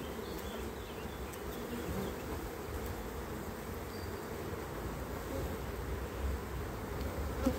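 Honeybees buzz steadily around an open hive during a spring inspection while queens are introduced, a dense even drone of many bees close by, with no voices.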